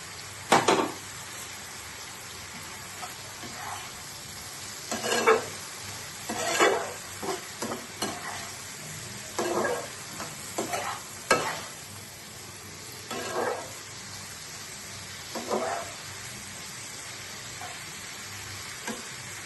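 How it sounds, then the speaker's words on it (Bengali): Khar kol stalks and prawns frying and being stirred in a pan, a steady sizzle broken by repeated scraping stir strokes at an irregular rhythm, close and fairly loud with no talking. "এবার এটা আমি ভাজা হতে দেব।"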